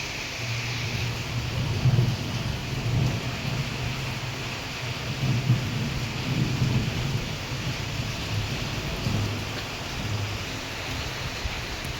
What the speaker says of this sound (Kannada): ಮಳೆ ಬರ್ತಾಯಿತ್ತಲ್ಲ ಹಂಗೆ ನೋಡ್ಕೊಂಡು ನಿಂತ್ಕೊಂಡಿದ್ದೀನಿ